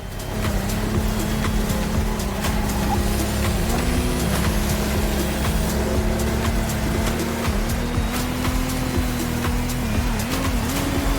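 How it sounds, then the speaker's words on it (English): A powerful Lamborghini speedboat engine in the video game The Crew Motorfest drones steadily at close range, its pitch rising and dipping slightly over a constant wash of turbulent water, with no talking. "a boat made by Lamborghini"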